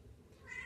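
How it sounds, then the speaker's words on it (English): A cat meows once, faint and short, in the background of a quiet indoor room. "Hopefully these cats in the background aren't distracting you too much from all this Wrightson awesomeness."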